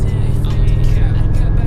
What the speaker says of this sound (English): The 5-cylinder sounds absolutely phenomenal.